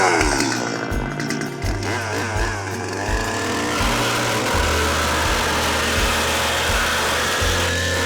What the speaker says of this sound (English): Nah, you use a chainsaw.